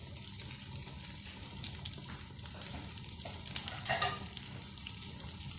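Chapli kabab sizzling and frying in hot oil, a steady dense crackle with brief louder pops, heard alone without talk.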